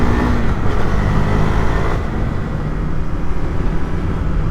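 A KTM 390 Duke motorcycle with an aftermarket exhaust runs loud and close, its engine and exhaust note rising briefly, then settling into a rough, steady drone while the bike moves along.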